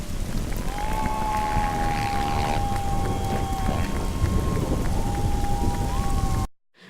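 Heavy rain pours steadily while deep thunder rumbles beneath it, loud and close throughout, then the storm cuts off abruptly into silence.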